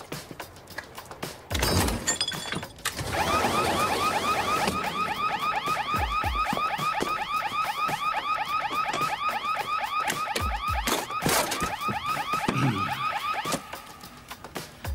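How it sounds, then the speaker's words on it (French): A car alarm wails loudly and continuously through repeating warbling and whooping cycles, with a couple of dull thumps near the start and end and no talking. "c'est juste une alarme"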